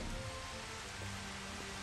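A raindrops water spell in Final Fantasy XV showers down as a dense, continuous hiss of rain, steady and fairly loud with no talking over it.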